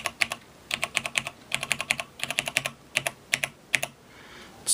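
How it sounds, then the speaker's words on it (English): Typing on a buckling spring POS keyboard, with loud, crisp key clacks arriving in quick bursts of several strokes and short pauses between them, heard up close with nothing else present. "This is a POS keyboard, actually."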